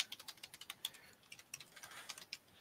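Rapid, uneven keystrokes on a computer keyboard, close and quiet, with irregular clicks coming in quick bursts and no talking.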